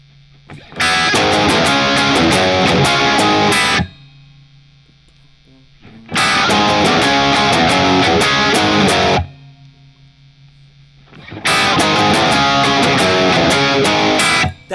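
Overdriven electric guitar plays the verse of a song in three loud bursts of chugging chords, with near-silent gaps between the phrases.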